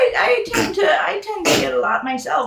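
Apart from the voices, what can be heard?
sneeze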